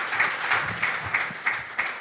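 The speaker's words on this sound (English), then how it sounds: "While you clap for Corina" Conference audience applauding a speaker in a hall, steady dense clapping with a few louder individual claps rising through it, moderately near, no talking.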